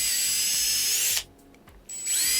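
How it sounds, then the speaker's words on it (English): Power drill whirring loudly as it drills out a part on a Traxxas X-Maxx RC car, a steady high whine that cuts out briefly for a moment of near quiet, then resumes at full speed. "we're going to have to drill this out right here"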